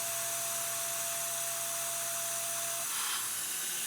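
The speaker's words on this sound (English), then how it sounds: "the rear parting tool faces off the front surface of the Delrin bar" Lathe with a rear parting tool facing off the front of a Delrin bar, a loud steady hissing machine noise with a thin whine that stops near the end as the cut finishes.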